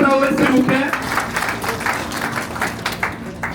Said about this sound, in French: On applaudit très très fort pour M. Traoré